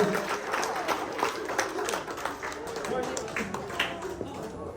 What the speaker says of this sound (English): Give a big round of applause for the family of Jared